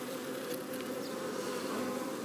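Honey bees buzz inside a top bar hive, a steady, close, dense drone with no voices.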